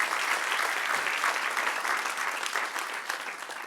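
A church congregation applauding steadily, a dense wash of many hands clapping close and full for a few seconds without a break.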